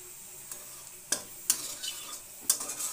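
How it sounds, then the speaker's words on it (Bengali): Dried red chili, black cumin seeds and a bay leaf sizzle in hot oil as a spoon stirs them in a pan, with a few sharp scraping clicks standing out over a steady hiss, no voices. "দিয়ে ভালো করে নেড়ে নিলাম।"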